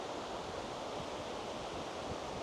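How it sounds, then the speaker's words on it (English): River rushing down from the Utladalen valley in Norway, below the Vettifossen waterfall, makes a steady, broad roar of flowing water that fills the scene with no voices. "So this is the river which comes down from Utladalen."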